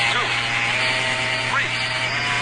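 Continuous buzzing drone of a Schick 3-speed electric razor running close up, with two short tonal shifts as the speed is switched while it keeps going.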